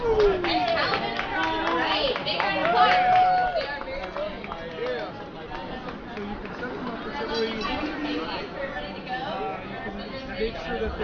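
Lively outdoor crowd at an oyster shucking and eating event claps and chatters, a dense burst of applause mixed with babble and a few voices speaking over it, steady and fairly loud throughout.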